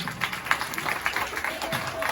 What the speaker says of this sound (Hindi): तालियां जरूर बजाइए